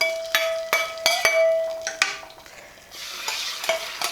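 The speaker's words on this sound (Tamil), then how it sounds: "கருவேப்பிலை கொஞ்சம் மல்லி இலை ரெண்டும் சேர்த்து லைட்டாக தாளிச்சிக்கலாம் தாளித்து இதை குழம்ப சேர்த்துடலாம்" Curry leaves and coriander leaves in a hot oil tempering for Tamil mutton kuzhambu, with loud sizzling and frying, several sharp metallic clinks of a spoon against the pan, and a hissing surge near the end.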